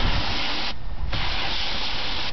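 Water sprays steadily while rinsing a cell membrane during acid cleaning, a loud continuous hiss that drops briefly and then resumes, with no talk over it.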